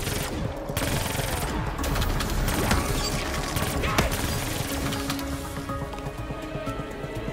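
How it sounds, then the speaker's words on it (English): A weapon is hip-fired in a Treyarch shooter video game, giving rapid, continuous automatic gunfire with metallic mechanical clatter, loud and up close, with no talking. "We're just gonna fire from the hip a little bit."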